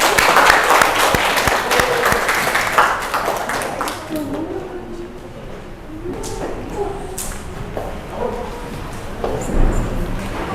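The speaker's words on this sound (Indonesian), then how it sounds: "Kasih tepuk tangan dulu." Classroom audience applause for a student group coming forward to present during a teacher-training performance test, a dense burst of clapping at the start that thins out, with chatter and voices continuing over it.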